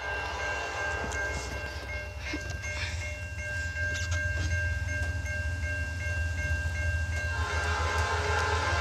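Norfolk Southern freight train 25A running long hood forward through Bethlehem, a loud, close diesel rumble with wheels clattering on the rails and a sustained horn tone throughout.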